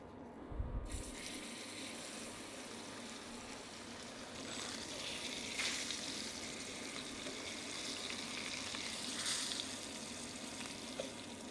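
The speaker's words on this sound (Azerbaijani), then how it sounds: "Belə möhürləyirik biz bunu. Bu qızardı üstü, möhürləndi." Lamb ribs searing in a hot pan, a continuous hissing sizzle that swells and fades in waves, fairly faint and steady with no talking.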